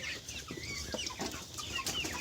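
A flock of desi chickens on a farm, recently sick with coryza, clucks in short overlapping bursts against a steady, noisy background, with no talking.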